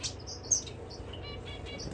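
Zebra finches, doves and canaries in an aviary give short, high chirps and tweets, several birds calling in quick scattered bursts at close range with no talking.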